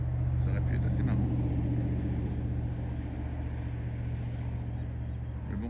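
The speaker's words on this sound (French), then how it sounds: "c'est calme, à part le bruit des voitures derrière" Steady low rumble of road traffic passing behind a calm spot on Île du Père Conan near Sept-Îles, Quebec, in the morning, continuous and moderately distant beneath a voice talking.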